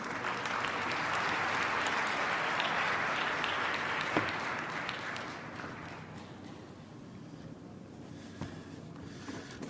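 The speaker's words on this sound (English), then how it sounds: "Let's give a round of applause for Dr. Ronald Klatz, president of the A4M." A conference audience applauds for Dr. Ronald Klatz, president of the A4M, in a full, sustained burst of clapping that gradually fades and thins over several seconds.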